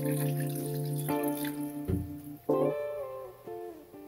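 Water pours from a tap into a pot for hen stew, a steady, rising splash and trickle with tonal ringing as the vessel fills, interrupted briefly by a clunk.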